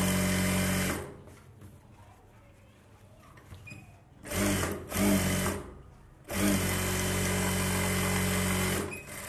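A tailor's sewing machine stitches dress lining for a Bharatanatyam dance costume, running in a long steady whir, then short stop-start bursts, then another sustained run, loud and close.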